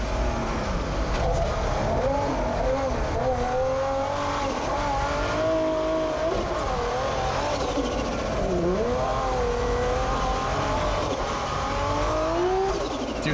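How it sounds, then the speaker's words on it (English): A car in Cities: Skylines revs continuously with wavering pitch, tires squealing as the wheels spin, loud and close throughout. "that car has wheel spin going 100 miles an hour"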